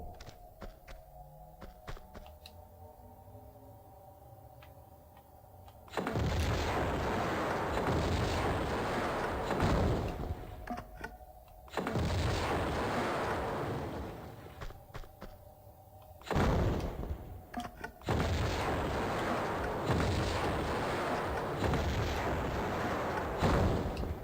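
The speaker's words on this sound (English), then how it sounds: "Oh, can I grenade them?" Grenades fire and burst in Tomb Raider II on the Floating Islands level, several loud booming blasts with long rumbling tails separated by quieter gaps of game ambience.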